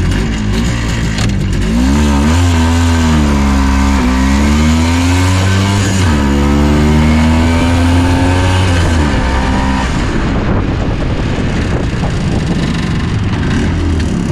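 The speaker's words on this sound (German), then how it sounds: "gucken wir mal, wie schnell man mit so einem Gespann eigentlich losstarten kann von der Ampel" An MZ ES 250/2 Trophy motorcycle sidecar outfit, carrying two people, pulls away from a traffic light, its two-stroke engine rising in pitch through several revving surges before easing off into road and wind noise.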